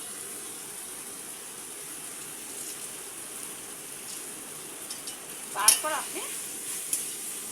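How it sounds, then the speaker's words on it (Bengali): Cashews, raisins and melon seeds stirred in a pan, a faint steady hiss with a few brief louder scrapes near the end, and a short stretch of speech over it. "এই যে কাজু, কিশমিশ আর চারমগজ দানাটা দিয়ে দিচ্ছি। দিয়ে একটু ভালো করে নেড়ে ছেড়ে নিয়ে"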